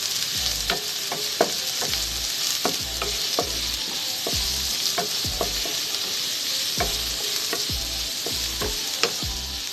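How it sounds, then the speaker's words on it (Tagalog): Onions sautéing in a pan for rellenong bangus (stuffed milkfish), a steady close sizzle broken by regular scraping strokes of a spoon stirring through the pan. "sunod na natin ilagay ang sibuyas. Gaya ng sinabi ko kanina, make sure na translucent yung sibuyas natin."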